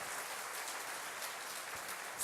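A church congregation claps together in a continuous patter, heard faint and somewhat distant with no voices over it.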